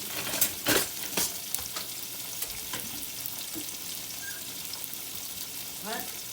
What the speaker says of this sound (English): Put our onions down in there. Saute them just a little bit.